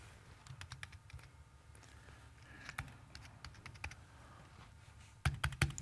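Computer keyboard typing while working in a graphics editing program, scattered quiet key taps in short bursts with a louder cluster of clacks near the end, close and alone.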